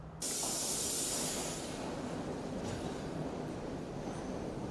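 A train arrives at Colombo Fort railway station, with a sudden loud hissing burst of air that slowly fades into a steady rumble of rolling carriages, close by and without voices.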